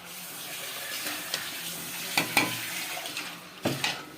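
Desi duck curry cooks in a pan, a soft low sizzle broken by a few sharp scraping stirs and clinks of a utensil against the pan, with nobody talking.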